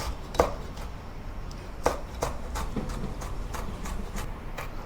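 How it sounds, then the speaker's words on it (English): A knife chopping green chilies on a cutting board, a few sharp close thuds followed by quicker lighter taps, with no talking. "Cut the chilies into small pieces."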